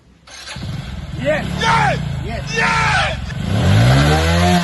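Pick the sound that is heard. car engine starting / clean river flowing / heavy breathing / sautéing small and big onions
car engine starting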